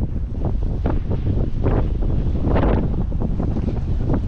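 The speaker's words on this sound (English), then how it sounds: "It is windy. It's the wind is literally pushing me." Strong wind buffets a microphone outdoors in a park in Argentina, a loud continuous rumbling roar with gusting swells and no voices.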